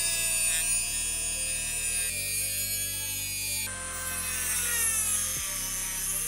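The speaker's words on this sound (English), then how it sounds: "use a Dremel to take an old socket and see if we can sort of makeshift" A Dremel rotary tool cutting into an old metal socket, a continuous high-pitched whine that shifts pitch as the load changes, steady and fairly loud with no talking.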